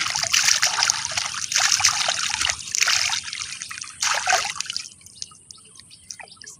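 Water splashing and trickling as someone bathes in a village pond, in close, loud bursts of sloshing that fade to quieter drips near the end.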